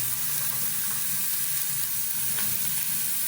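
Cut mookuthi avarai beans frying in a pan, giving a steady, close sizzle with continuous hiss and faint stirring scrapes, with no voices.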